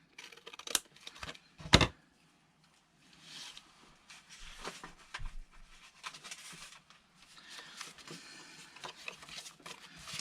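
Scissors trimming paper scraps and book pages for collage, a few crisp snips up close, then quieter intermittent cutting and paper rustling.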